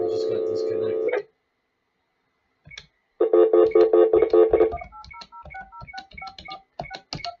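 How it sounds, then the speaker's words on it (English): A telephone is dialed after a dropped call: a held tone, then a series of short rapid keypad beeps and clicks at close range, with speech mixed in. "I just got disconnected on the phone. That's why I'm dialing."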